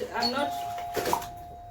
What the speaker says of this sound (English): wait, there's a bell ringing.